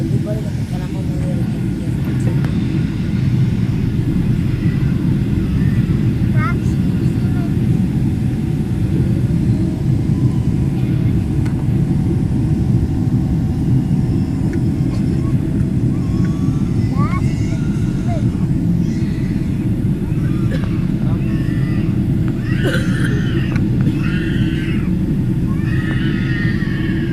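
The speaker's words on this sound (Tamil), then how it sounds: "இதுதான் பார்த்தீங்கன்னா நம்ம டேக் ஆஃப் ஆகும்போது" Loud, continuous engine roar inside the cabin of an Emirates airplane taking off from Dubai, a steady dense drone held throughout with faint voices in the background.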